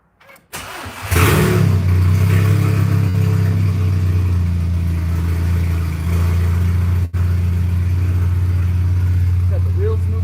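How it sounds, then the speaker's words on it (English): A car engine fires up and settles into a steady, loud idle that runs on evenly with one brief dip partway through, heard close up after a new transmission install and before the car's first drive. "I'll let it sit here and idle until I actually get the temperature this time."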